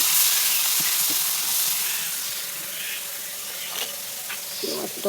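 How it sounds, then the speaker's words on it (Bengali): Fish rubbed with salt and turmeric fries in hot oil in a wok, giving a steady broad sizzle throughout with a few sharper crackles and spits near the end. "কড়াইয়ে তেল দিয়ে দিয়েছি। মাছটা নুন হলুদ মাখিয়ে নিয়ে এদিকে ভেজে নেব।"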